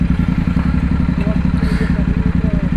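Royal Enfield Interceptor 650 engine running in a steady, throbbing pulse close by, with a continuous loud low rumble and brief speech over it.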